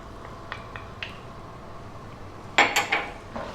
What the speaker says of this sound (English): Let's start by dropping in the star anise and the ginger along with the garlic.